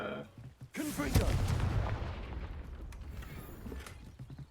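A Confringo spell bursts into a fiery explosion in Hogwarts Legacy, one sharp boom followed by a rumbling, slowly fading blast tail that lingers for several seconds.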